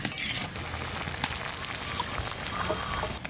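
Green ash gourd pieces sizzle steadily in a hot pan just after a little water is added, a dense, continuous crackling hiss throughout, close and fairly loud, with a few scattered pops and no talking.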